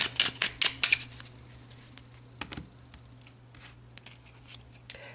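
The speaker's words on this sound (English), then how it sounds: "let's pull one final card for advice." Tarot cards handled during a reading: a quick burst of crisp, close shuffling snaps and flicks, then sparser soft taps and slides as a single card is drawn, with no talking.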